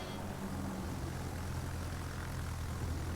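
Aircraft engines drone as planes launch from the carrier Shokaku in a naval video game, a steady, faint broadband roar with no voices.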